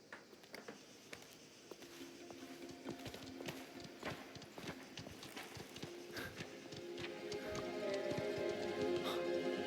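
Horse hooves clip-clop in the game Mafia: The Old Country, a steady patter of steps at moderate distance that grows a little louder toward the end, with faint background ambience.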